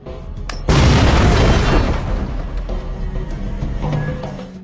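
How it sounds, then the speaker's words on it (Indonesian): A loud, deep blast blows open a safe in a 1992 action film, a sudden boom followed by a long rumbling roar and debris noise that slowly fades. "Setelah itu mereka semua sedikit menjauh dan ledakan pun dilakukan."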